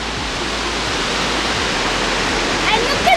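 The world's largest waterfall in Zimbabwe, heard from a viewing point as a steady, dense roar of falling water, broad and continuous for the whole stretch, with no talk over it.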